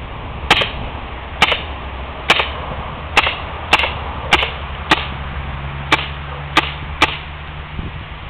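A Dan Wesson CO2 revolver fires 4.5 mm steel BBs during recreational shooting. About ten sharp, loud cracks come at a fairly even rhythm, each one short and snappy, with no voices between them.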